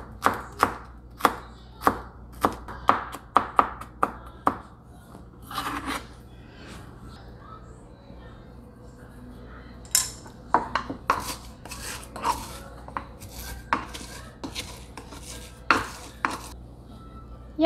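A knife chops fresh herb leaves, stems removed, on a board for a salsa in a home kitchen: quick rhythmic runs of close, crisp taps, with a pause before a second, looser burst of cuts.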